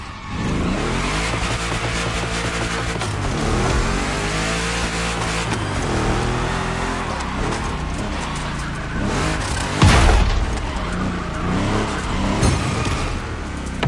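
A 1,000-horsepower Camaro race car in Motorfest roars loudly throughout, its engine pitch sweeping up and down through gear changes, with tire noise and one sharp bump along the way.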